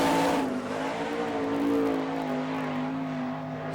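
Sprint race cars at Hartford, Ohio in an All Star Circuit of Champions dirt track event roar past completing a lap, a loud sustained droning engine note sliding slightly lower as they pass, no talk.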